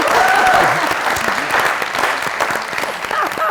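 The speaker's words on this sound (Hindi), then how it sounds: "आप सबकी भरपूर तालियों में जनाब अमानत चंद साहब।" A studio audience on an Eid special television show breaks into loud, dense applause welcoming a guest, with a voice briefly heard over the clapping.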